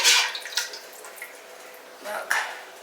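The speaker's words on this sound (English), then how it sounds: "Now we're going to fill this up with water." Water is poured to fill a canning jar, with splashy bursts and dribbles coming and going close by.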